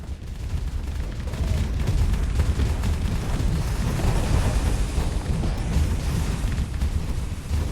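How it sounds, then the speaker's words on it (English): Starships blow up in a space battle in the Starsector video game, a dense run of loud booming blasts and rumbling fire that rolls on without a break and without talk. "look at the explosions"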